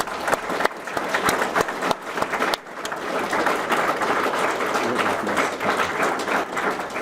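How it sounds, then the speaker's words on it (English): An audience claps for co-op students standing at a school pathway celebration, with steady, dense applause filling the room for about seven seconds and a brief dip partway through. "Give these guys a round of applause."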